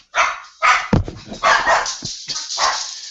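Several dogs bark near and loud in a house, a run of about six sharp barks and yips in irregular bursts with short pauses between them.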